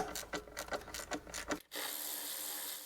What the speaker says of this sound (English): Just gonna get them loose first, and then I'll use my electric ratchet to finish them off.